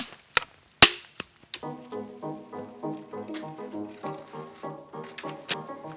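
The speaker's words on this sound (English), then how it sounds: "you want to take your stick and you want to break it from the small end" Several sharp, dry cracks of dry deadfall sticks snapping while building a fire, loud and close, followed by quieter rustling and brittle crackling of wood being handled.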